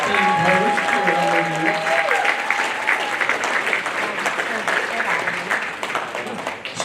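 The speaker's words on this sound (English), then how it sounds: "Ladies and gentlemen, big round of applause for Count Dorothyville, our esteemed host" An audience gives a round of applause at a special presentations event, dense clapping that stays loud throughout while a voice speaks over the start.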